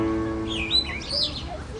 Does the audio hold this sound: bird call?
yes